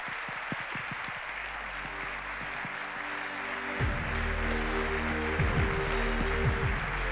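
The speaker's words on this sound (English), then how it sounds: "let's give them one more big round of applause" Summit audience applause rises as a broad, steady wash of clapping, with sustained musical tones and a swell of sound entering midway and growing louder.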